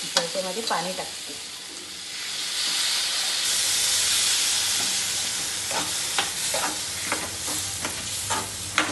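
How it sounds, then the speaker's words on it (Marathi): Pea curry bubbles and hisses in a kadhai over a high gas flame, a steady sizzling boil that swells and settles, with scraping and clinks of a spoon throughout. "वाटाण्याच्या भाजीला चांगली उकळी आलेली आहे"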